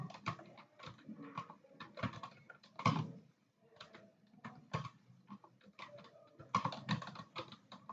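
Keys clatter on a computer keyboard during a typing test, with quick, uneven bursts of close clicking and brief pauses between runs of keystrokes.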